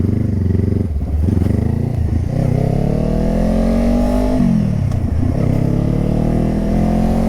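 A motorcycle engine revving in first gear while riding, rising and falling in pitch with loud mechanical clatter close to the mic, sustained throughout without speech.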